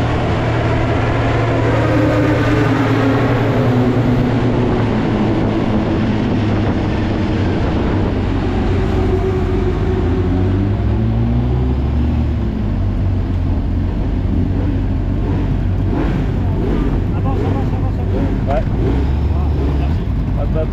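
A Honda CBR600RR rolls gently back to the pits at Le Mans during an FMA Days track session, its engine humming at low revs under heavy wind buffeting, with a voice talking over it.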